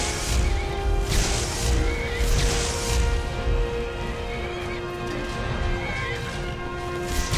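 A horse neighing while under attack in Skyrim, loud and continuous amid game combat noise and a steady musical drone.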